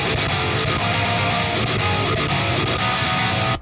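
An unedited guitar riff exported straight from Guitar Pro as MIDI and played through the Odin 2 synth, dense and continuous at full level with a distorted, buzzy tone, with no talking.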